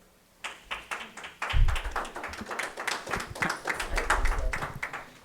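Audience clapping at a Santa Barbara Unified School District special board meeting: rhythmic applause begins abruptly, swells into steady, moderately close clapping from many hands and continues without a break.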